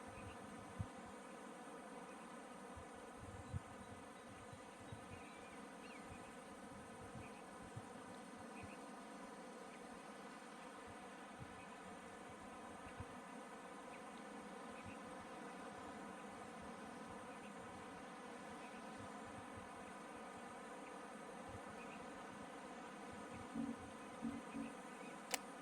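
Bees drone steadily around a basic beehive in the video game Pax Dei, a faint, even buzzing hum that holds throughout with a few soft clicks.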